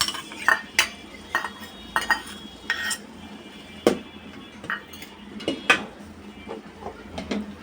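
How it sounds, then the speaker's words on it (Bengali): A spoon stirs vegetables frying in oil with tomato sauce in a pan for chicken soup, giving a series of sharp metallic clinks and scrapes against the pan at an irregular rhythm over a faint sizzle. "সবজিগুলোকে তেলের সাথে ভেজে নেব। এখানে অ্যাড করছি টমেটোর সস"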